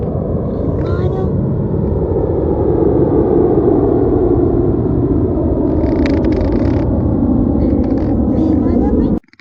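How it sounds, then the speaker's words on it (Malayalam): An airplane flies low nearby, a loud continuous roar and rumble filling the whole stretch before cutting off abruptly, with faint voices audible over it. "ഇത്ര അടുത്തോട്ട് വിമാനം പോവും?"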